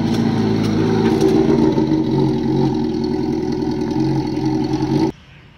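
A motorcycle engine idles steadily with a low, even rumble for several seconds, then cuts off abruptly near the end.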